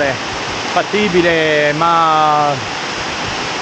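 Waterfalls near Calabritto in southern Italy roar as a steady, broadband rushing under someone talking close by.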